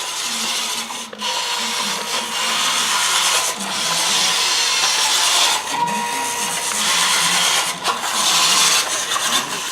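A truck steering hard while reversing around a corner makes a harsh, continuous grinding engine-and-mechanical noise, loud and steady with brief dips, and no talking.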